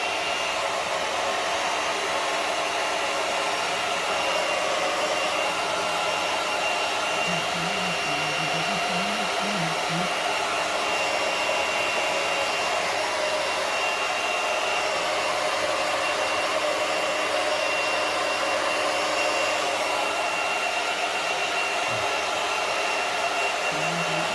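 A hair dryer blows cool air steadily to dry hair system glue, a continuous close, even whoosh running without a break.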